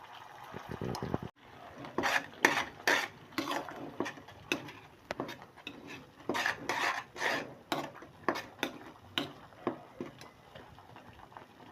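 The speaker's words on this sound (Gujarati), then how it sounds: "ઘી સેજ ગરમ થઈ જાય એટલે એની મેં આપણી દાળ જે બફાઈ ગઈ છે એ આપણે નાખી દઈશું" Boiled lentils are added to hot ghee in a pan and stirred for vedmi, giving repeated scraping and wet stirring scrapes with spoon-on-pot knocks, close and rhythmic.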